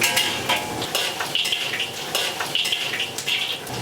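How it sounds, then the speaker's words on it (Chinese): Sichuan peppercorns and spices fry in a wok for red-braised beef, giving a steady, close sizzle broken by repeated scrapes and clinks of a utensil stirring against the pan. "花椒香料下锅"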